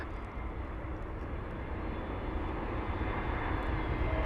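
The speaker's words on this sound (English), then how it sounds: "I need to focus on Yeah, NSA 321 Neo." An A321neo airliner lands at London Heathrow, a steady, moderately loud engine rumble that rises gradually, with no voices present.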